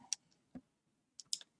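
A few sharp computer keyboard key clicks, near and distinct, scattered unevenly with short silent gaps between them.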